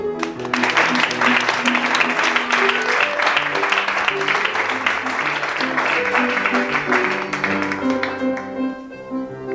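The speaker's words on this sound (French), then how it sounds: "on vous applaudit" A studio audience claps steadily in a dense burst of applause while music plays underneath, the clapping fading toward the end as the tune continues alone.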